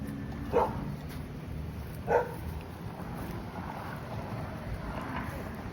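Dogs bark in two short bursts, one early and one a moment later, heard outdoors against steady wind rumble and faint water-like background noise in Galveston, Texas.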